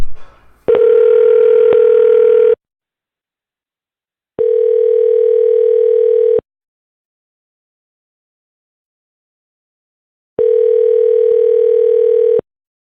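Three long, loud steady telephone tones sound alone, each lasting about two seconds and separated by silent gaps, the first coming right after a brief rustle.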